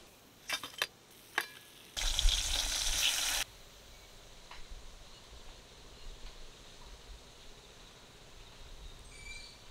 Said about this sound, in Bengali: বাকি যে মাছগুলো আছে একইভাবে ভেজে নেব।